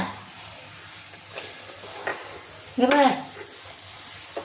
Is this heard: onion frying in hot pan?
yes